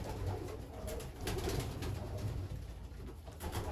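Racing pigeons coo softly inside their loft, a continuous low murmur of several birds overlapping at moderate distance, with occasional faint flutters and rustles and no talking.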